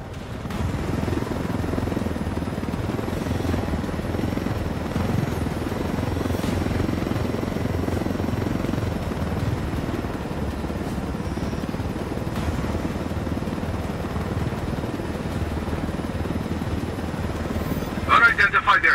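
Helicopter flying in the video game Ghost Recon Wildlands, a steady loud rotor drone that holds throughout with a brief burst of added noise near the end.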